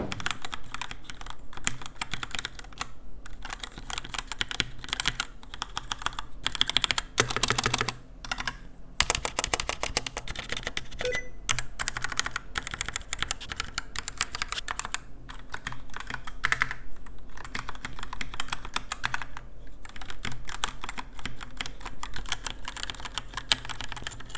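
Steady typing on a Cooler Master CK530 V2 TKL RGB mechanical gaming keyboard, with close, continuous rapid key clacks and a few brief pauses, no voices.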